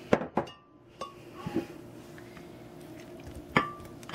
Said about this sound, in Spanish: voy a poner más piña aquí en el vaso de la licuadora